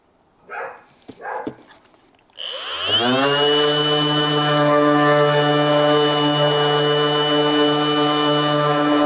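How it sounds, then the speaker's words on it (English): Bosch 18V 125mm random orbital sander spinning up on wood after a few brief knocks and a short whine, then a steady loud harmonic hum holding constant. "make sure you're sanding with the grain of the wood"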